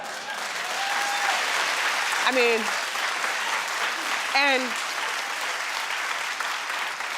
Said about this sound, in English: you're clapping for K. Michelle